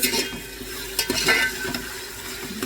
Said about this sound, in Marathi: आता आपण हे परत परतून घेऊया मस्त